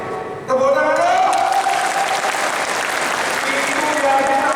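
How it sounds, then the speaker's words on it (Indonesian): A group of trainees at a tactical martial arts training session applauds: loud, steady crowd clapping that starts abruptly and sustains for several seconds, with a voice heard over it at the start and again near the end. "Tepuk tangan dong."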